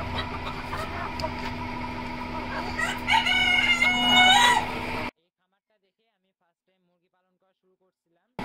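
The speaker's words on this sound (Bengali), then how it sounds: "এই তো এইখানে একটা সুন্দর একটা কোচিন আছে এটা হচ্ছে হোয়াইট কালার কোচিন" White Cochin chickens in a poultry yard, with a rooster crowing loudly nearby over steady flock clucking and background din before the sound cuts out abruptly.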